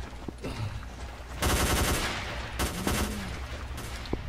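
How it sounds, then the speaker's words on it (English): Bursts of automatic gunfire from guards shooting at mutants in the game STALKER: Call of Pripyat with the Misery mod, two loud sustained volleys separated by quieter stretches with a few isolated shots. "it's actually the guards on the Skadovsks shooting off some mutants"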